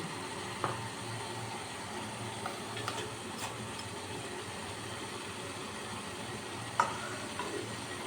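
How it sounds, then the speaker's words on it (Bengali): Metal bowls are set onto perforated steaming plates above boiling water, with a steady hiss of steam throughout and a couple of faint metallic clinks, one early and one sharper near the end. "এবার এই বাটিগুলো আমি বসিয়ে দিচ্ছি"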